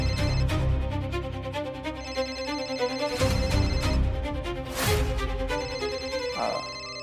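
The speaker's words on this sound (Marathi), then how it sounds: "फोन येतोय." A mobile phone ringtone plays as a melodic, repeating tune at steady volume for several seconds in an indoor domestic scene, with no speech over it.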